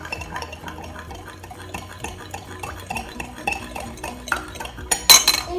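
A mixture with colouring being stirred in a dish, with steady scraping and clinking of a utensil against the dish, ending in a sharper clatter. No one speaks.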